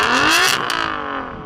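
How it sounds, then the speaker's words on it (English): A car engine revs hard nearby at a casual gathering, a loud rising roar that climbs in pitch and then settles back while still running steadily, with no talking. "Go on, Yanni, rev up your car."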